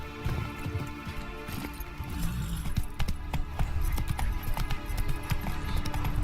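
Galloping horse hooves in The Witcher 3 video game, a fast steady clip-clop close by with faint clinking tack, continuing without a break.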